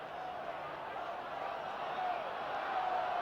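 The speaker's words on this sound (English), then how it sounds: "Crowd says go." A football stadium crowd on fourth down in a 1979 Rams vs. 49ers game, a continuous roaring cheer swelling slightly, with broadcast voices over it.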